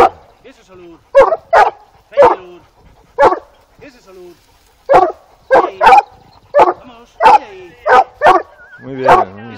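Several dogs bark in loud, close bursts, with sharp single and doubled barks coming in irregular clusters separated by brief pauses.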